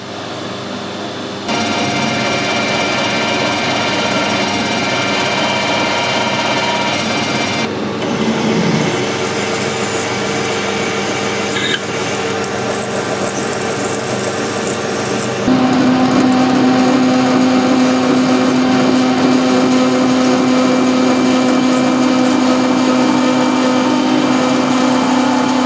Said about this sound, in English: Before I part this off, I'm going to drill it and bore it out